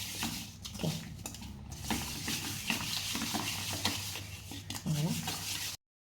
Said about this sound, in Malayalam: ഇത് ഇങ്ങനെ ഈ ചട്ടിക്കകത്തിട്ടൊന്ന് തിരുമ്മണം